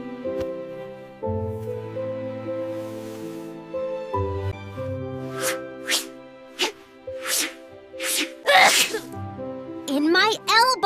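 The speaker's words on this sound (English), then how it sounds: "Sneeze in your elbow." Several quick, breathy sneezes break in one after another over a bright, playful musical backing, with a voice singing and talking around them.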